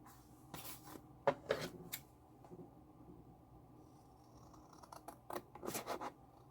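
Scissors snip through paper flashcards close by, a series of quiet, crisp cuts and rustles spaced irregularly, with a faint background hum.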